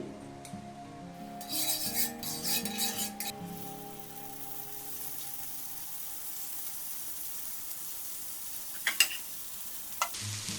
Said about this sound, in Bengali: একটু স্লো গ্যাসে এটা ভেজে নিতে হবে